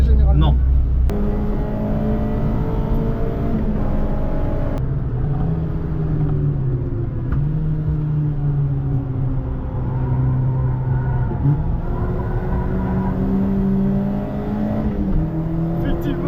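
A car engine idles roughly at a racetrack paddock on the Val de Vienne circuit, a steady low rumble with uneven pitch wavering, running continuously up close while people talk over it.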